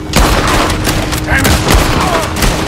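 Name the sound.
gunfire in the video game Red Dead Redemption 2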